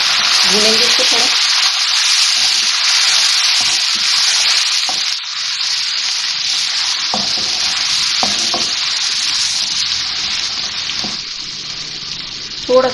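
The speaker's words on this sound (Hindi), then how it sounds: "इसको भुनाई करेंगे लहसुन अदरक।" Garlic and ginger frying with onions and whole garam masala in a pan for keema biryani, a steady loud sizzle with occasional scraping stirs of a spoon, close up with no talk.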